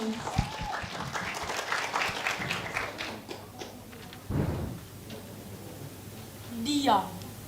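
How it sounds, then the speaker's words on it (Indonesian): Students and guests at a Palembang junior high school event give Muhammad Fatan a round of applause, a dense burst of clapping in the opening seconds that fades out, followed by quieter noises and a brief voice. "beri tepuk tangan untuk Muhammad Fatan"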